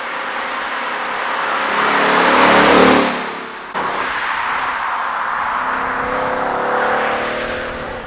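A Ford Mustang GT engine accelerates hard, its roar building to a loud peak, easing with a gear change and then pulling steadily again, heard close with no talking.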